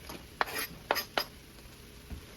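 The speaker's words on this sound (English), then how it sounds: "now that our hamburger is getting brown, we're going to add in about 1/4 of an onion" Quarter of an onion added to browning hamburger in a pot: a few soft clinks and scrapes of a utensil against the pot, sparse and quiet, with a faint sizzle underneath and no talking.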